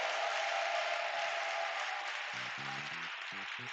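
A church congregation applauds and cheers for Jesus Christ as a dense, steady roar of clapping fills the room from start to finish. Short tonal voice bursts near the end come through faintly under the applause.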